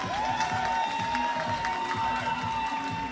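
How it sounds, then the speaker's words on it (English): Steady applause and crowd noise from an audience at a boxing event, with cheering mixed in and a constant tone running underneath. "Applause for the fighters coming off."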